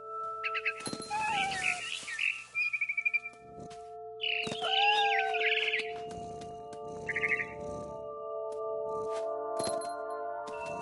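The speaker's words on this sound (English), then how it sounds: "Then I heard chirping outside my window. It was a barn swallow going back to her nest." A barn swallow chirps just outside a window, bright clustered twitters and tweets coming in short bursts across the stretch, fairly near, against a quiet background hum with no talk.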